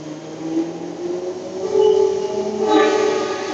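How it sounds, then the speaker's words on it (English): A train passes just across the street from a station, a rising rumble with a sustained tonal whine that swells toward the end, fairly loud and steady with no voices. "Oh, there's the train."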